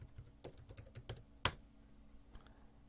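Someone presses Ctrl+S to save on a computer keyboard. A few quiet, scattered key taps are followed by one sharper, louder click midway through. The room is otherwise hushed.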